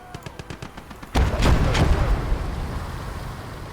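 Heavy gunfire and mortar blasts in the World War II video game Kelly's Heroes: a run of rapid sharp shots gives way to a loud booming explosion with a long rumbling tail.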